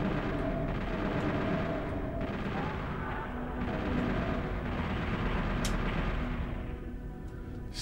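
Gunshots in DOOM 64 fired at a button, heavy booming blasts and rumbling game noise filling the whole stretch at moderate level, with no clear pauses between them.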